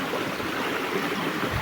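Water tumbles over rocks at Tunki waterfall in Mayurbhanj, a steady rushing wash heard close by without any speech.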